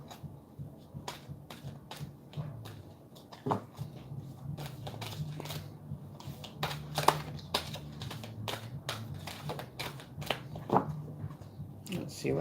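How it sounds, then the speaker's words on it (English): Tarot reading cards are shuffled by hand, a run of crisp, irregular riffling clicks and slaps repeating steadily throughout, moderately close and fairly quiet. "I'm going to shuffle these. I hate shuffling these ones."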